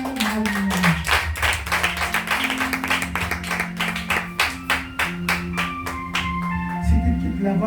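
Congregation at a Ministère du Consolateur church service clapping in a steady, loud rhythm, with held sung or chanted tones running underneath and no spoken voice over it.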